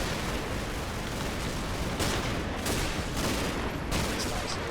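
Gunfire aimed at a church nave in a World War II wargame video game, a dense continuous rattle of shots with a few heavier bursts and booms, loud and alone.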